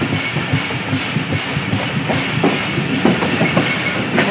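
Train running onto the loop line at Mahmood Kot station in Pakistan, with steady rhythmic clickety-clack of wheels over rail joints and a constant rumbling roll, heard close and loud from on board with no talk.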